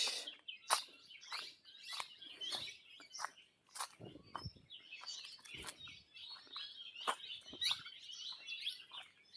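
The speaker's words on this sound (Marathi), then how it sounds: "पक्ष्यांचा आवाज बघा किती" Many birds chirp and tweet in a village forest in the Konkan countryside, overlapping short calls near and far, lively and continuous with brief pauses, no voices.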